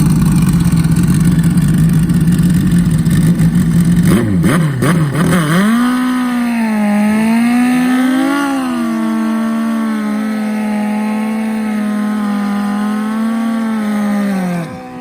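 A turbocharged Suzuki Bandit 1200 drag motorcycle engine idles with a loud rough burble, then is blipped and revved in rising and falling sweeps before settling to a high steady drone, close and loud.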